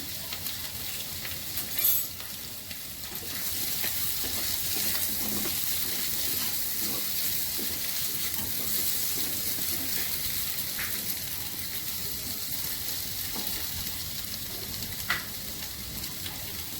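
Potatoes and ground spices sizzle steadily in a pan for jeera aloo, a continuous close frying hiss with faint stirring scrapes and a couple of soft clinks, with no talking.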